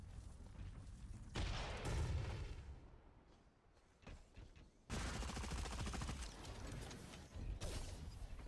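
Gunfire and mechanical combat sounds in the video game Super Mecha Champions: dense bursts of shots and booms in two loud stretches, with a quieter gap between them and no talk.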